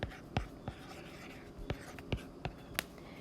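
A stylus tapping and stroking across a tablet screen in a drawing app, with sharp irregular taps and brief soft strokes, close and fairly quiet against a faint background hum.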